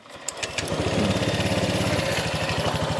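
A fuel-injected motorcycle engine is switched on and settles into a steady, close, buzzing idle that holds evenly after a brief start.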